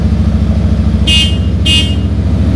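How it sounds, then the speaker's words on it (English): Wolo horn on a Suzuki Marauder VZ800 motorcycle sounding two short, loud toots over the steady, throbbing idle of the running V-twin engine inside a garage. "So this is the horn with the bike running."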